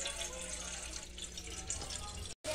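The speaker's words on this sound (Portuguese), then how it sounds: "Já coloquei água aqui para ferver a água que eu vou fazer o macarrão." Tap water gushes steadily into a cooking pot being filled to boil pasta in a home kitchen. The flow is loud and continuous, then cuts off abruptly near the end.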